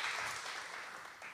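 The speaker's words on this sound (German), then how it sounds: "bitte auch einen Applaus für Ellie" Audience applause for Ellie at a German reading event, a short steady burst of many hands clapping at moderate distance, with no voices over it.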